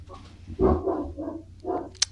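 A dog barks a few times close by in a room, the short barks breaking in over quiet background noise around people chatting.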